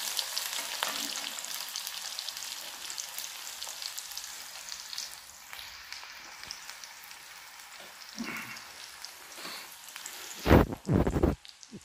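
Chopped green chillies frying in a pan give a steady crackling sizzle throughout, with a few louder clattering bursts near the end.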